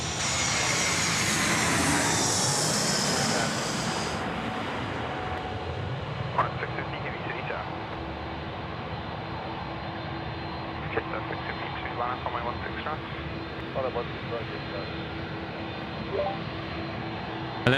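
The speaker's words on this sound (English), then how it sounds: "It's going to be over our heads in a minute. It's an A320." A Jetstar Airbus A320 passes overhead at Sydney Airport at night, its engine roar loud at first and then fading into a distant hum while people talk and a radio crackles intermittently.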